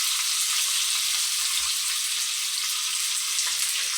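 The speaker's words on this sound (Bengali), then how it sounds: "পেঁয়াজগুলো আগে ছেড়ে দিলাম" Onions fry in hot ghee with a steady, close, hissing sizzle that runs evenly throughout, with occasional faint pops and no voices.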